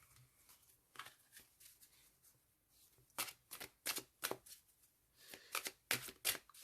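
Tarot cards are shuffled by hand in quick riffling bursts, quiet at first and then louder, with sharp papery snaps in two clusters of rapid strokes and short pauses between them.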